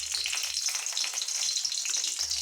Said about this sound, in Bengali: কড়াইতে জিরা ফোড়ন দিয়ে দিয়েছি